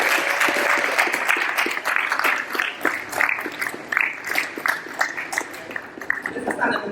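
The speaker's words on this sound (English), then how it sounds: "Let's all clap for them." Audience applause for student council election candidates, a dense steady clapping from a crowd that runs throughout and thins slightly toward the end.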